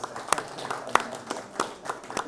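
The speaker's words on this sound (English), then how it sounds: "Please give them a round of applause." A small audience at a discussion event at The MAH gives a thin round of applause, a handful of separate sharp claps scattered over a couple of seconds, fairly quiet in the room.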